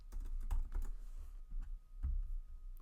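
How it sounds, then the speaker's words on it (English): Someone types on a computer keyboard up close, a quick run of crisp key clicks in short bursts with brief pauses between words, and no talking. "So I'll type Ever. Then I'll type in Sweet."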